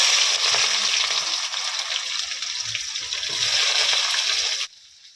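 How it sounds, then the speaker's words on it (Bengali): Onions fry in a pan for a home-cooked chicken kosha at a family picnic, giving a steady, fairly loud hiss and sizzle. The sound runs without a break, then cuts off sharply near the end. "পেঁয়াজ হালকা ভাজা হয়ে গেছে"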